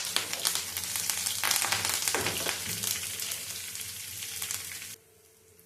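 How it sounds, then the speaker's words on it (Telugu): Tempering spices and curry leaves fry in hot oil, making a loud, steady, dense sizzle up close that runs unbroken for several seconds, then cuts off abruptly near the end, with no talk. "ఇవన్నీ గోల్డ్ కలర్ వచ్చేంత వరకు వేయించుకోవాలి"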